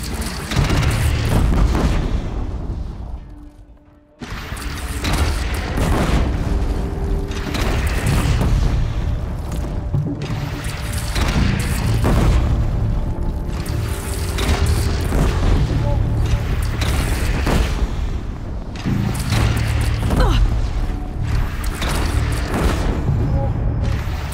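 A cannon fires during a battle in the video game Horizon Zero Dawn, with loud, repeated booms rolling one after another under game voices and background score for the whole stretch.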